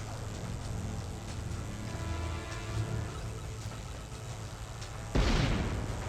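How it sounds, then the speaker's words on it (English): A grenade blows up a barrel in Tomb Raider: Legend, one sudden loud blast near the end of the clip, following a steady low rumble of game ambience. "What if maybe if I throw a grenade at it?"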